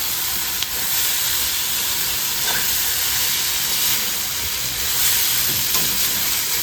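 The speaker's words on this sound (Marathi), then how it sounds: "तडतडली मोहरी" Mustard seeds crackle and spit in hot oil for tempering, a dense steady sizzle with scattered sharp pops running throughout.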